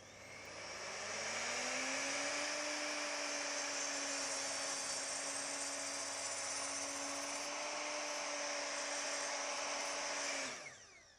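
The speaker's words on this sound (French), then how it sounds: "Donc revoilà une découpe de bois." A power tool spins up and cuts through a pine rafter, a steady high whine holding for about nine seconds before winding down, fairly close and alone with no talk.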